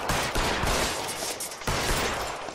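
Gunfire in the game L.A. Noire cracks out in a loud, dense burst of several rapid shots, a second volley following after a short break, with no talking.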